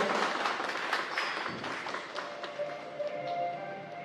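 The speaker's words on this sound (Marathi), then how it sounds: "त्याचा टाळ्या जोरदार" Audience at a press conference for the TV series Inspector Manju applauding, a broad continuous clapping wash with scattered taps, fairly close and sustained, with faint voices in the background.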